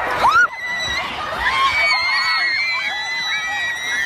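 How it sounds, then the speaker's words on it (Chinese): A panicked crowd flees a suicide bombing near the arena exit after a concert in Manchester, England. Many overlapping high-pitched shrieks and screams from teenagers and children rise and wail continuously, close and loud over a dense, steady roar of crowd noise. "流出的视频可以看到，当时人群非常的惊恐，都在拼命的往外逃。"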